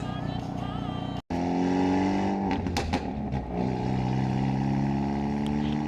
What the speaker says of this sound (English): See how loud it actually is under load and full throttle compared to just a main tech 3-inch downpipe catted